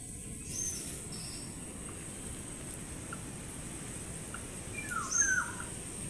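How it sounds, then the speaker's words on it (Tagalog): Sparse bird chirps scattered over a quiet countryside background, a few brief calls with a slightly louder cluster near the end. "Wala kang ibang maririnig na ingay kundi mga huni ng ibon"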